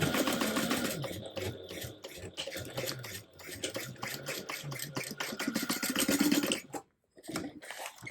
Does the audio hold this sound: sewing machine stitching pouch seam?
yes